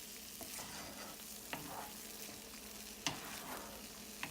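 Fried mushrooms being stirred into a butter masala in a pan, a quiet low sizzle with a few scattered spoon clicks and scrapes against the pan, faint and close, no voices.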